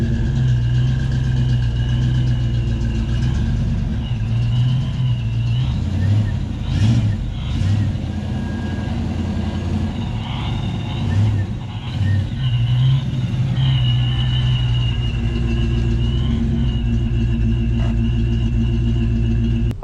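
A Mazda FC RX-7 is shuffled around during a car swap, its engine rumbling steadily and close for the whole stretch, with faint high beeps and a few knocks riding over the drone.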